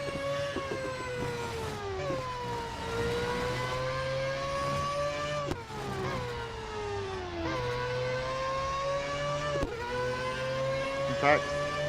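Mazda 787B race cars roar around a track in Real Racing 3, their engines rising and falling in pitch through repeated gear changes and passes, loud and continuous, with a voice talking over the racing.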